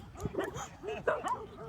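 Dogs giving quick, excited yips and short barks, several rapid bursts close by, with faint talk underneath.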